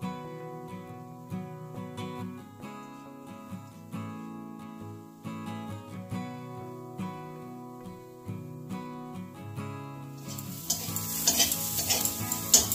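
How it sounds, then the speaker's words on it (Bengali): Sliced onions with a little salt fry in hot oil in a kadai, sizzling steadily while a utensil stirs them in repeated scraping strokes. The frying grows louder and brighter toward the end. "দিয়ে পেঁয়াজটা ভেজে নিচ্ছি।"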